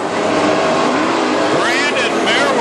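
Loud WISSOTA Midwest Modified race cars roar around a dirt speedway, engines droning steadily with a rising whine as a car passes close, under an announcer's commentary.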